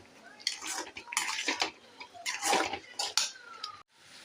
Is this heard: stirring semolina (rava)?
yes